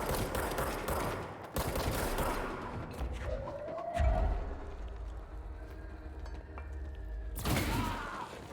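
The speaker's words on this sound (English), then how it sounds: "you start shooting bombs at them" Gunfire and blasts in the video game Control come as scattered sharp bursts and thuds at moderate loudness, with a whooshing sweep and a heavy impact midway.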